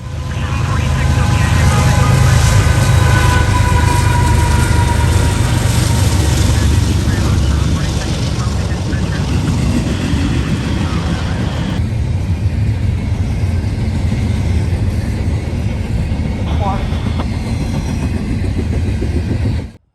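A CSX freight train rolls past in Central or Northeast Ohio with a GE ES44ACH remote locomotive midway in the consist: a loud, close, unbroken roar and rumble of engines and wheels that holds steady for the whole stretch.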